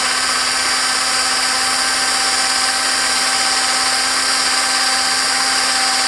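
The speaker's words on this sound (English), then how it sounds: "It's not spinning so fast with this drill." A cordless drill spins a steel scratch awl tip against a diamond sharpening plate, producing a continuous, loud, even whine with steady tonal hum and grinding hiss that never lets up throughout.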